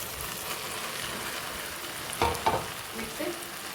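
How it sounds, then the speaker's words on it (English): Boiled chow mein noodles drop into a frying pan, a steady close sizzle of frying with a few sharper clattering stir sounds as they go in. "Now I'm going to add the boiled chow mein noodles."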